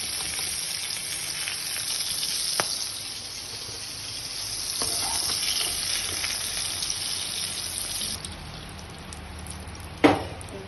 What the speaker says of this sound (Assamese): এতিয়া এইখিনি লাহেকৈ কাঢ়ি দিব।